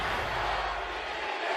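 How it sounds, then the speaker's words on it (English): A large esports crowd at a League of Legends World Championship quarterfinal roars as a steady, dense wash of noise, with no clear break. "You can hear the roar of the crowd once more."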